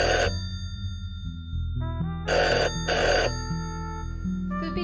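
Old-style telephone bell ringing in the small hours, three separate bursts with pauses between, loud and close over a soft musical background.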